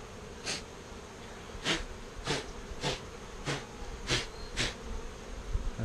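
Honeybee swarm buzzing around hive frames, a steady near drone of many insects with repeated short bursts of louder buzzing as bees fly close by.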